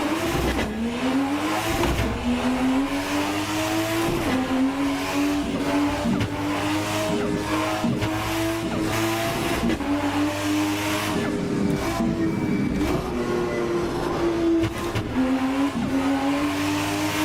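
A 1000-horsepower car in Assetto Corsa on a highway through traffic, its engine roaring and revving steadily with gear shifts and bursts of tire squeal and skidding, loud and continuous with no talking.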